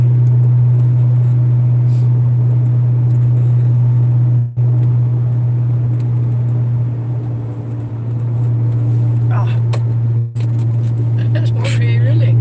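A car being driven at night with its lights off: a steady, loud low engine and road drone from inside the cabin, continuous throughout, with faint voices briefly near the end.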